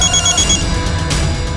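A telephone rings in a police station, with repeating electronic ring tones that are loud and close, heard alone without talk.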